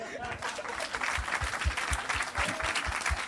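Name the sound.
applause from a church congregation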